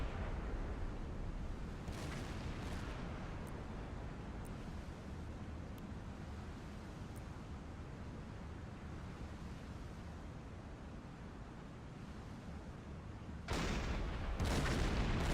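In a U-boat video game, a torpedo strikes a ship and explodes into a loud, sustained low roar that rumbles on for many seconds, with sharper bursts flaring up near the end.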